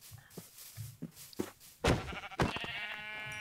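Sheep in the Minecraft video game bleat several times, soft calls at first and then two louder, nearer bleats, with quiet gaps between them and no talking.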